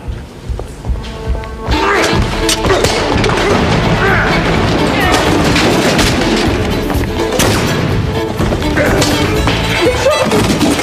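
Gunfire erupts in a TV drama scene, loud booming shots and impacts layered over dense, chaotic action sound and music-like clutter that fills the whole stretch after a brief quieter opening.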